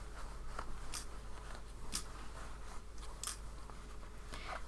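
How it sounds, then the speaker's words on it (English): Pins being pulled one by one from patchwork cushion fabric after the borders are stitched: faint, soft scratchy ticks at irregular intervals over a low steady room hum, with no voices. "Let's just take the pins out now."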